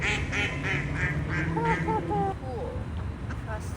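Ducks quack repeatedly along the San Antonio River Walk, a series of nasal calls over steady outdoor background noise, with people talking excitedly nearby.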